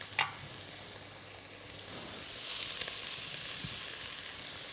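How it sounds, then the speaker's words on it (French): Onions frying with a ginger and garlic mixture in a pan, a steady soft sizzle with faint stirring scrapes, no talking over it. "Alors je mélange bien mes oignons"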